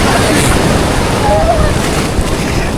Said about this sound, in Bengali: এটা বিশাল ঢেউ আসছিল